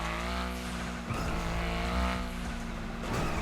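Audi RS5 engine in GTA Online, a steady, loud revving drone that holds its pitch throughout, with a brief dip near the one-second mark and faint tyre squeal mixed in.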